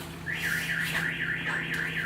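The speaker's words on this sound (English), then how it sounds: "Of course, an alarm goes off." A car alarm wails outside in a residential neighborhood, its rising and falling siren cycling steadily at a moderate distance with no voices over it.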